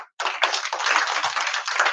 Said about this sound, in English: participants with a warm round of applause